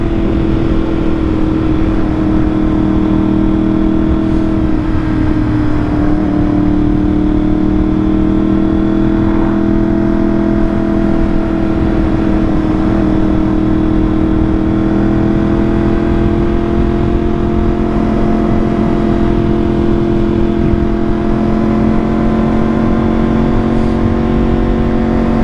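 A 2023 Yamaha R1M superbike in Mode B, running an ECU flash and fuel remap, cruises along with a loud, steady engine drone that holds nearly constant throughout, with only slight shifts in pitch.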